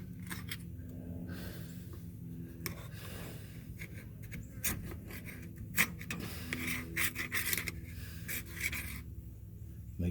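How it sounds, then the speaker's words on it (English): Putty knife scraping old gasket material off an axle housing during a Dodge axle seal job, close, faint dry rasping strokes in irregular bursts with no talking. "that's where your putty knife comes back into play. And we can clean off all the old gasket."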